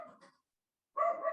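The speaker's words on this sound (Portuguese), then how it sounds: "Cachorrinho latindo aqui." A small dog barks twice nearby, short sharp yaps separated by a brief silence, clear and alone.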